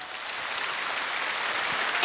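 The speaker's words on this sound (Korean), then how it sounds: "박수 주세요" A large audience claps for a contestant at a televised outdoor singing contest in Seoul, a dense, steady wash of applause that swells slightly toward the end, no talking.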